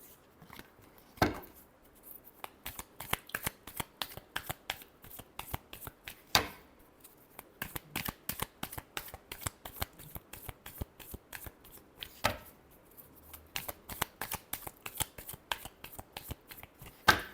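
Tarot cards are shuffled up close in quick, crisp flicks and riffles that run continuously, with a few sharper louder snaps marking the breaks between shuffles.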